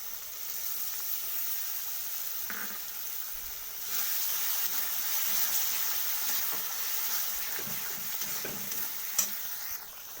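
Poppy seed paste stirred into sizzling masala for a paneer curry, a steady close frying hiss with soft scraping stirs that grows a little louder midway, ending in a sharp clink.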